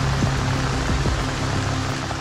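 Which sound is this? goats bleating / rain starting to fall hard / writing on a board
rain starting to fall hard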